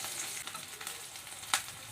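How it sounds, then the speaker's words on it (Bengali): Chopped onion fries in mustard oil with black cumin, giving a steady soft sizzle and crackle throughout with one sharper pop near the end. "একটু ভাজা হয়ে গেলে আর পেঁয়াজ কুচি দিয়ে দেবো"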